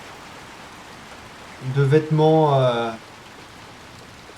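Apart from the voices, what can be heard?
rain in an abandoned town, from video game Little Nightmares 2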